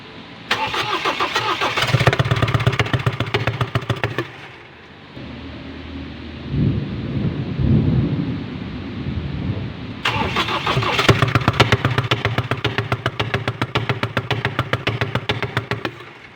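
A Ford Ranger 2.0 engine with a knocking fault cranks and fires, then runs with a loud rough rhythmic knock. It dies into a lull and restarts, and the repeated knocking continues close to the listener.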